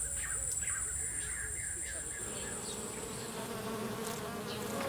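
Bees buzz continuously in an outdoor setting, a steady faint drone with crows cawing intermittently and a voice speaking in the background.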